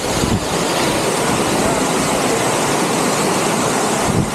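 A waterfall at Charco Azul, heard as a loud, steady roaring rush of falling water close by, continuous and broadband with no pauses.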